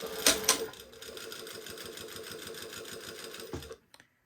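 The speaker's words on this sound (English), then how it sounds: "And now I'm just going to sew right along that fold." A sewing machine stitches along the fold of a blouse, running steadily at a slow pace with rapid regular needle strokes for about three seconds before stopping, after a couple of brief louder clicks at the start.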